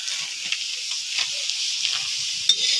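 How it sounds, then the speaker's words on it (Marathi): Food is stirred in an iron pan over a wood-fired clay stove while cooking a field-bean curry, with a soft continuous sizzle and scattered scraping taps, ending in a sharper clink. "हलवून घ्यायचं जरा."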